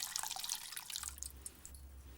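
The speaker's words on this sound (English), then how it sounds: "Just pour off this poaching liquid so that the flavours permeate into the rice." Salmon poaching liquid is poured off from a pan onto rice in a home kitchen, giving a close, steady splashing trickle of liquid that runs without a break and deepens partway through.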